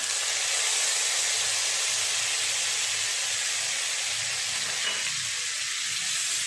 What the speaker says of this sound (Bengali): এই তেলেই ফোড়নের জন্য দিয়ে দেবো এক চামচ পাঁচ ফোড়ন দুটো শুকনো লঙ্কা